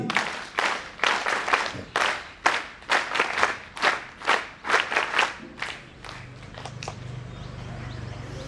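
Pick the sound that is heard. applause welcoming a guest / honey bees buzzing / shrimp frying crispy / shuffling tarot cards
applause welcoming a guest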